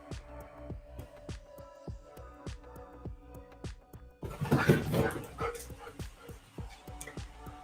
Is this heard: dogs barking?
yes